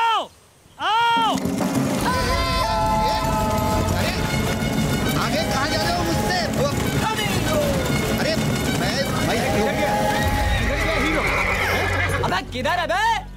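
Horses neigh loudly several times over a dense bed of galloping hooves, crowd noise and music in a Bollywood comedy scene, continuous and busy throughout, with voices mixed in.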